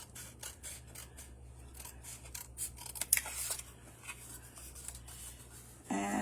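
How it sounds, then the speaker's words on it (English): Scissors cutting through card stock with a steady run of close, crisp snips over faint background hum, ending with a louder rustling scrape. "So I'm going to come inside and cut this one."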